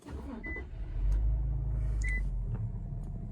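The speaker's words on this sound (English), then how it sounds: "Let me go ahead and turn the car on." An Infiniti Q50 twin turbo starts up: two short chimes sound, then a low engine rumble rises and settles into a steady idle heard from inside the cabin.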